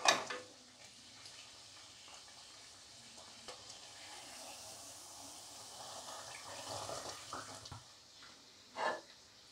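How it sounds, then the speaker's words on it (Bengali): Bhatura dough frying in very hot oil, a faint steady sizzle with soft bubbling and occasional louder splashes of oil being spooned over the puffing bread; no voices. "এবার তেলে দিয়ে দিলাম। তেলটা খুব গরম হতে হবে।"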